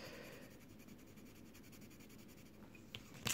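Colored pencil shading on paper, a soft continuous scratchy rubbing close to the microphone, quiet and steady with a slightly louder tap near the end.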